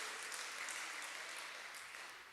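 Church congregation applauding, a dense sustained patter of many clapping hands in a worship hall, fairly faint and slowly fading.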